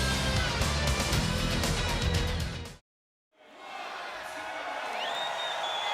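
A wrestling arena crowd in Miami cheers and roars steadily at a WCW Monday Nitro broadcast. The sound cuts to a brief silence, then returns as a softer, distant crowd murmur.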